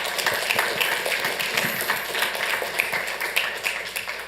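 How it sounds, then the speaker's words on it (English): An audience at a city council meeting applauds a group of volunteers, a steady patter of many hands clapping at moderate loudness, with no talking over it. "please make a round of applause for the amazing group of volunteers up here"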